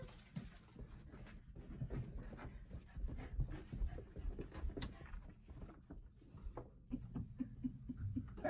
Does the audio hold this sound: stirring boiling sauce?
no